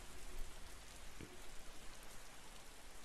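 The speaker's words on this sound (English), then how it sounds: "on a rainy and wet day like this in Stoke" Steady rain pours down in a Roblox game on a wet day in Stoke, a dense, even hiss of drops spattering across surfaces for the whole stretch with no voices over it.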